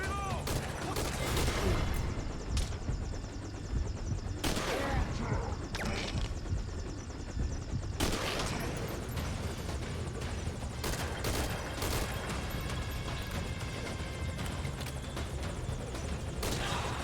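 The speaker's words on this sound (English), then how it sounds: "Identify gunfire. Can't tell where it's coming from." Dense gunfire from the video game Metal Gear Solid V Ground Zeroes, with bursts of shots and crashing impacts running almost continuously under a music bed, loud and sustained throughout with a few sharper peaks.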